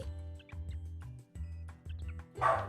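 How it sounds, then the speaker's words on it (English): A dog barks in a few short yips and woofs at a distance, partly buried under steady background noise, then a louder burst at the end. "That was my dog barking."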